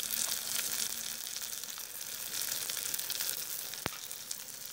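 Dried fish and onions frying lightly in oil, a steady close sizzle with soft crackles and one sharp tap of a utensil near the end.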